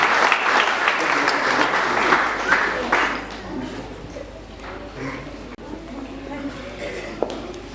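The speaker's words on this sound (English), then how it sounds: "Clap for Jesus Christ." A church congregation applauds with broad, steady clapping that is loud at first and then thins out into scattered claps, with background voices mixed in.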